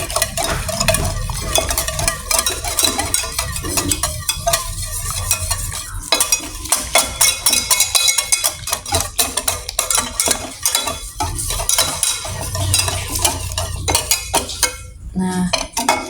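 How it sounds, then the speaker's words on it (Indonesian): Close, steady stirring of milk powder into a batter in a bowl, with a continuous scraping swirl and occasional clinks of the utensil against the bowl, no talk. "Lalu tambahkan lagi 50 gram susu bubuk. Ini kita kacau dulu ya."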